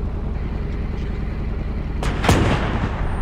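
A StuG III's main gun fires at trucks in ARMA 3, one sharp booming shot cracking over a steady low engine rumble, followed by a brief echoing tail.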